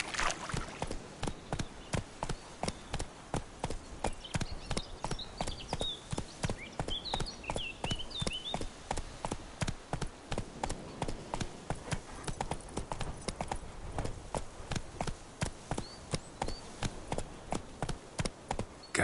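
Roach the horse trotting in a video game, hooves clip-clopping in a brisk, even, continuous rhythm, close and clear, with faint game sounds in the background.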